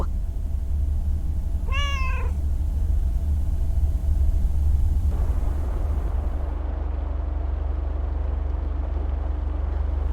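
A cat meows once in the video game Lake, a short rising cry heard close over a steady low engine-like rumble that continues throughout.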